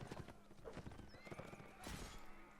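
Horse hooves clip-clopping and a horse neighing in a Napoleonic Wars video game battle, rapid hoofbeats running throughout with a loud whinny rising near the end, close and clear.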